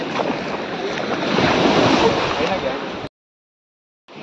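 Sea waves wash in at the shore near Kashedi, a steady broad surf roar mixed with wind buffeting the microphone, holding loud for about three seconds before cutting off abruptly.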